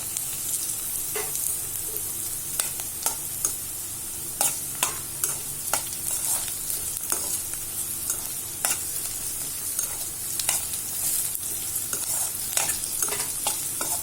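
Okra rice being stirred in a frying pan, a continuous sizzle broken by repeated sharp scrapes and taps of the spatula in an uneven rhythm, close and fairly loud with no talking.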